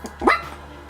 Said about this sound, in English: if you can hear that noise, that's my dog being annoying.